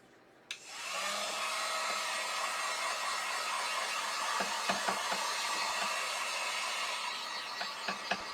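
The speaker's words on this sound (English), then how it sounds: "I'm just going to dry this with my heat gun" A heat gun blows steadily to dry paint on a scarecrow craft, switching on abruptly with a click and then holding a constant airy roar, with a few faint taps and knocks near the end.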